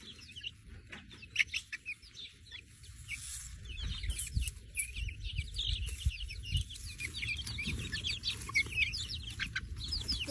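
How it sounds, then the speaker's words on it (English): Backyard chickens near a chicken tractor cluck and chirp steadily, several birds calling close by with busy overlapping clucks and brief louder calls, with no talking. "There's a chicken."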